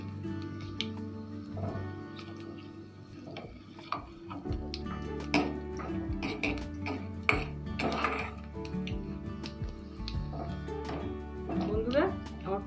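Bengali tempering spices sizzle and get stirred in a pan for kolmi saag, with metal utensil clinks and scrapes over a steady fry, under continuous talking.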